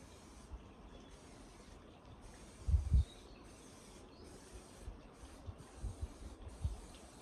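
A spray can lays down a coat of grey primer in a series of short hissing bursts separated by brief pauses, with a few low knocks and thumps between passes.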